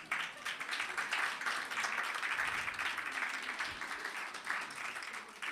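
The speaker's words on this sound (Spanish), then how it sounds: "Un aplauso al Señor." Church congregation applauding the Lord during a worship service, a dense, steady wash of clapping lasting several seconds, fairly loud and continuous, with faint voices mixed underneath.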